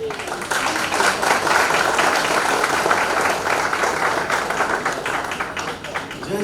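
Audience applause at a book launch for Jaya Kishori's book "It's Okay", a steady, dense patter of clapping lasting several seconds at even loudness, with some murmur of voices mixed in.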